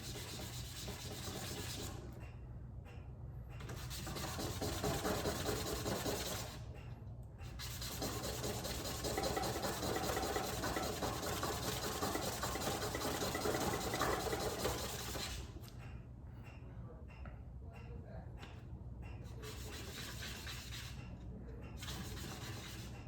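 Hand sanding of a wooden dowel for a handmade sawgrass Native American bird whistle: continuous rough rubbing strokes in long stretches, broken by a few short pauses, fairly close and moderately quiet.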